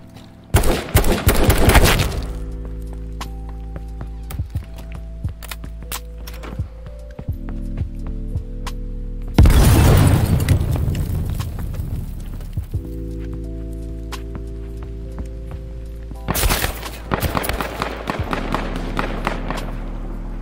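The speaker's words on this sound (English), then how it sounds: "Where are these shots?" Bursts of gunfire in a video game: three dense clusters of sharp, loud cracks and thuds separated by quieter stretches of footsteps and movement, with the first and last volleys lasting a couple of seconds each.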